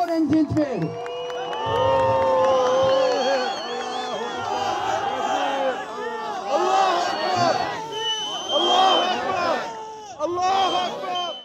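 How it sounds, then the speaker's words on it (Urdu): A large protest crowd in Berlin rallying for Uyghur Muslims chants and shouts Allahu Akbar, loud massed voices rising and falling in waves with cheering and whoops, close and continuous. "مظاہرے کے دوران برلن کی فضا اللہ اکبر کے نعروں سے گونج اٹھی۔"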